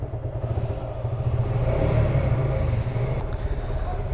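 A Suzuki Gixxer Monotone motorcycle's engine, faulty and cutting out under throttle, gives a steady low rumble that swells briefly and then settles lower. No one speaks.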